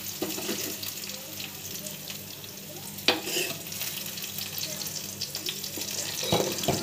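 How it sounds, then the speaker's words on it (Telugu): Fried tempering with green chillies tipped into simmering moong dal soup, sizzling and bubbling with stirring clatter and a sharp splash of contact midway, fairly quiet and close with no talk. "ఇప్పుడు ఈ మిశ్రమాన్ని మనం ఈ కాగుతున్న పెసరకట్టులో వేసుకుందాం"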